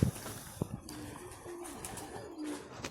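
Perched pigeons, kept for flying, give a few soft, low coos close by against a faint outdoor background with light rustling.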